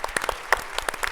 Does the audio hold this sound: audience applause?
yes